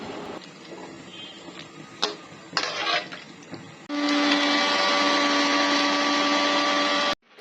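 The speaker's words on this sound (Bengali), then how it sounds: "গরম মশলা ব্লেন্ডার করা কমপ্লিট" An electric blender grinds garam masala spices in a home kitchen: after a few seconds of quieter clatter, a loud, steady motor whir runs for about three seconds, then cuts off abruptly.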